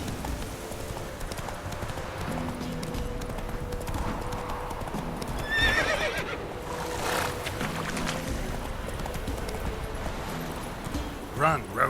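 Roach, Geralt's horse in The Witcher 3, gallops with rapid rhythmic hoofbeats and lets out a whinny midway, heard amid game ambience with a voice speaking over the action.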